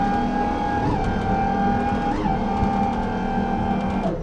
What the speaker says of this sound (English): now if you have a bow thruster, you're gonna wanna check that.